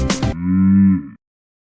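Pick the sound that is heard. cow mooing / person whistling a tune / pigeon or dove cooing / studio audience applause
cow mooing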